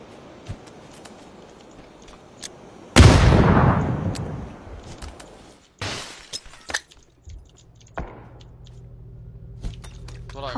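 Gunfire in the PUBG video game: one loud, sharp blast with a long crashing decay, followed by scattered fainter shots and clacks against a quiet background.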